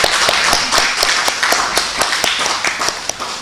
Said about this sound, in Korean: 우리 다시 박수 한번 할까요?